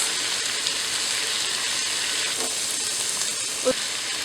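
Onion, corn and peppers sauté in a pan with a loud, continuous frying hiss that holds steady throughout. A single soft clunk sounds near the end.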